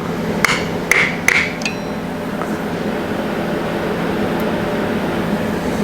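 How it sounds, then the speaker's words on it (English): Metal hammer strikes on a puller fitted to a 2023 KTM 300XC TBI two-stroke flywheel, four sharp ringing hits in quick succession and then a fainter tap, over a steady background hum in a workshop. "Now we need to be able to hammer on that without hitting the flywheel"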